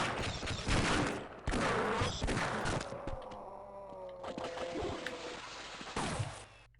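Bursts of gunfire from Half-Life mod Tower 2, rapid shots striking at the player in loud clusters with brief pauses between volleys, over a low game-world hum.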